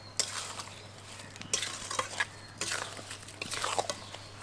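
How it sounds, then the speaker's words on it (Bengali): A spoon repeatedly scrapes and stirs sugar and jujube pickle in a kadai, giving a series of close scraping bursts with soft sizzling between them, and a steady low hum underneath. "পুরোটাই একদম একই রকমভাবে নাড়তে থাকবো, তা নাহলে কিন্তু চিনিটা একদম পুরো কড়াইয়ের তলায় বসে যাবে"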